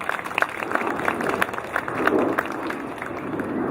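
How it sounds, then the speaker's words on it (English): An audience at a Canada Day celebration in Calgary applauds a newly elected Ward 3 council member, giving a steady, moderately loud round of clapping with a faint crowd murmur. "We need a round of applause for her."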